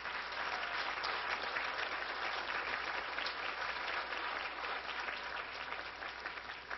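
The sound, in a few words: audience applause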